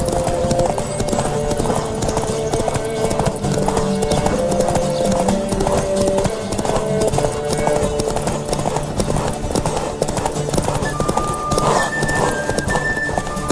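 Fast, steady clip-clop of galloping hooves with a horse whinnying, dense and loud throughout with music-like tones layered over it, from a horse race in the video game The Witcher 3 (2015).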